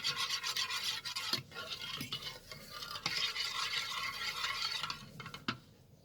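Milk toast mixture with cardamom powder being stirred in a bowl, a steady scraping swish of a utensil that carries on for several seconds with a couple of brief knocks, close and fairly quiet, with no voices.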